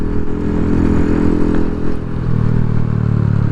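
Fuel-injected small Kawasaki Z125 or Honda Grom motorcycle engine revving hard on the throttle, a steady, loud, close buzzing drone that holds through the whole stretch with no talk.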